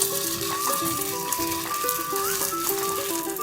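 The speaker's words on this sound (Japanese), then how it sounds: "ごま油をひいて、混ぜた材料を入れます。" Tofu chijimi pancake batter fries in sesame oil in a frying pan, giving a steady, even sizzle that runs throughout under light background music.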